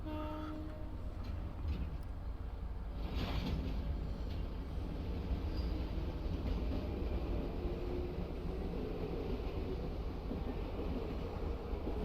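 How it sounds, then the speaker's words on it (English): A train pulls away in the video game Professor Layton and Pandora's Box, a steady low rumble and rattle that holds for the whole stretch with a brief swell partway through, no voices. "Off goes the choo-choo train."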